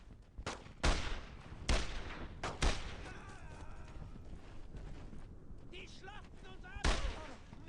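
In the Brothers in Arms video game, a grenade goes off amid a firefight: sharp, loud blasts and gunshots at irregular intervals, followed by rumbling debris and distant shouts under a low ambient hum.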